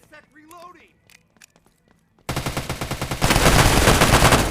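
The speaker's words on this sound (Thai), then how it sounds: "โดนปืนไอ้นี่นะ ปืนกลหนัก" Heavy machine gun fire in the FPS game Hazmob: after scattered quiet clicks and a voice, a loud rapid burst of evenly spaced shots starts and then swells into a dense, continuous roar of gunfire.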